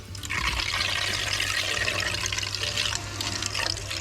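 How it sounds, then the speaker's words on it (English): Water rushes steadily through PEX plumbing into the inlet of an instant-on hot water heater and boiler combination system, a continuous close hiss and gurgle with no voices. "So now we got water going to the inlet of the boiler."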